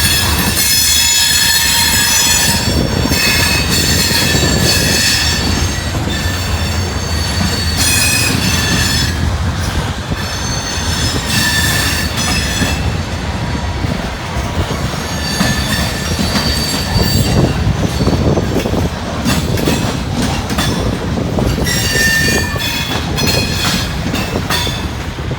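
A train rolls past close by on the old B&O railroad line on a cold, windy day, with a loud continuous rumble, rhythmic wheel clatter and repeated high metallic squeals from the wheels over about twenty-five seconds.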